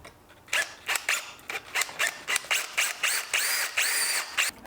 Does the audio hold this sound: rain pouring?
no